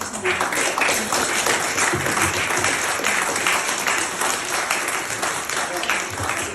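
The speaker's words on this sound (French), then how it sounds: "nous pouvons l'applaudir encore plus" Sustained, dense applause from a crowd at a gala dinner at the Gstaad Yacht Club, steady and loud throughout with no break.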